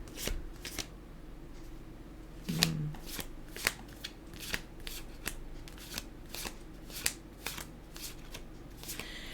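Oracle cards being shuffled by hand give a run of crisp riffling slaps and flutters at irregular intervals, close and fairly quiet, with no talk.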